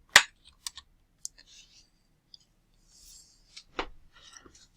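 Sparse computer keyboard typing: a handful of sharp, close key clicks spread irregularly, with a couple of louder strikes near the start and middle and lighter taps between, no talking.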